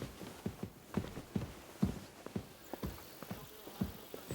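Horse hooves clip-clop at a steady walking rhythm in the medieval game Kingdom Come: Deliverance II, close and moderately soft, with roughly two hoof falls per second and no talk.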